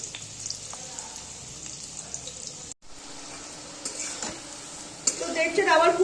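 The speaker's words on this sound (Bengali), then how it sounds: "তো এইটাই আমি এবার গরম তেলে ভেজে নেব।" Egg-coated cauliflower pieces fry in hot oil, giving a steady close sizzle with a brief break midway and stirring clatter, growing louder toward the end.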